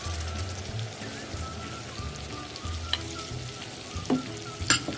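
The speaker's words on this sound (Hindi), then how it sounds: "इसको अच्छी तरह मिक्स करेंगे और साथ में कलेजी भी डाल दूंगी मैं इसके अंदर।" Chicken liver with tomato and green chilli sizzles steadily on a hot tawa while a spoon stirs and scrapes through it, with a couple of sharper clinks near the end and no talking.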